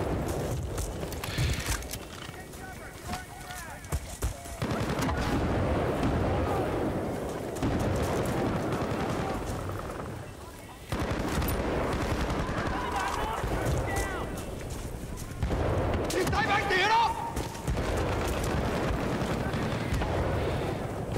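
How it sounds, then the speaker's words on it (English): Gunfire crackles through a Vietnam-era firefight in Battlefield Bad Company 2, with bursts of shots and booming blasts rising and falling in waves under steady game noise as a player talks over it. "He's just shooting over that wall."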